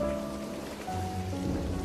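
Rain falls steadily in a soft, continuous patter, a quiet and even wash of drops set under a faint musical tone.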